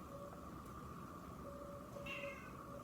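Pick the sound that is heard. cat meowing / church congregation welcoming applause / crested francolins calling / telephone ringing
cat meowing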